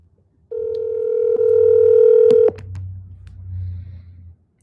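A phone places a call to a pasted number, giving a loud, steady electronic tone that breaks into a few quick dial beeps, followed by a lower, softer hum as the call connects.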